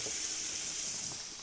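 Onions browning in a hot pan give off a steady, loud hissing sizzle with no pauses, like a spray of steam, and no voices are heard over it.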